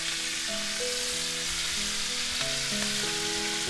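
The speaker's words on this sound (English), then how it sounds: "We're gonna let that sear again a little longer." Chicken for a fricassee sears in a hot pan, producing a continuous, even sizzle heard beneath soft background music, with no talking.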